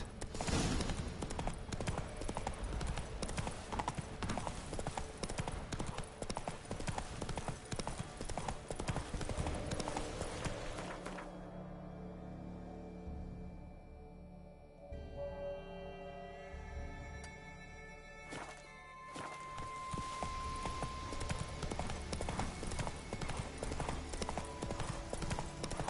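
Horse hooves gallop in The Witcher 3, a dense, rapid clip-clop that drives on loudly, eases into slower steps and tonal game sounds midway, then returns to a full gallop.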